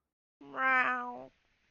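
A single drawn-out cat meow with a rising then falling tone, close and clear, sounding alone in a quiet setting. It may be a person imitating a cat.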